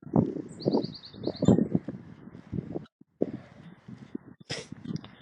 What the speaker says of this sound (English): Ooh, bird sound.